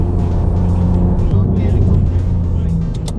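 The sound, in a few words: BMW M2 with valvetronic exhaust accelerating in second gear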